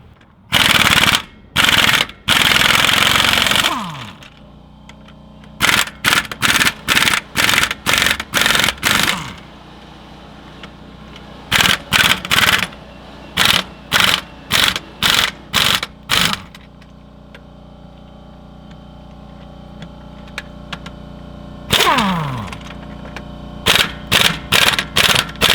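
Pneumatic impact wrench breaking loose wheel nuts on an old farm truck, loud rapid rattling bursts of a few seconds each, repeated in clusters with short gaps and a hiss of air between them.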